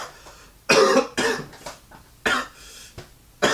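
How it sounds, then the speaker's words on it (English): A man coughs in several harsh, loud bursts spread out with short pauses between them, all close to the listener and heard alone with no talking. "all these lies got me coughing"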